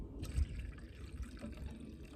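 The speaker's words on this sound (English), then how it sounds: "I heated up some water. So I'm mixing hot water with cold water right now." Hot and cold water being poured together into a bowl for wet felting, a soft continuous trickle and splash of liquid heard close and steady throughout, with no talking.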